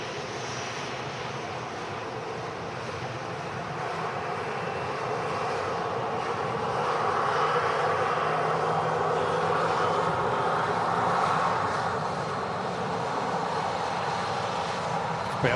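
EasyJet Airbus A320neo landing at Manchester Airport in windy conditions after arriving from Alicante, a sustained jet engine roar that gradually grows louder and holds steady, without talk.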